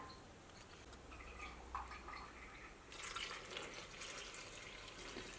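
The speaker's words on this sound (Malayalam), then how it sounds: "ഇനി നമുക്ക് മറ്റേതിലും 6 ഗ്ലാസ് വെള്ളം ചേർക്കാം" Six glasses of water pour steadily into a pot of wheat flour for halwa, growing louder and fuller partway through as the stream strengthens, continuous with no talking.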